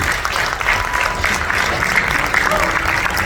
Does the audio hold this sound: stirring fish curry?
no